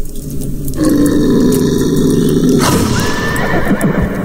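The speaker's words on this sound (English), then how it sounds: "Sounds like a wolverine's outside spooking our horses." Spooked horses whinny loudly in the video game Sang-Froid: Tales of Werewolves, one long neigh followed by a second shrill, wavering whinny, with faint hoof clatter beneath and background game ambience.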